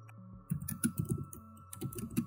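Quick bursts of typing on a computer keyboard, close and crisp, in two clusters separated by a short pause, over a faint steady hum.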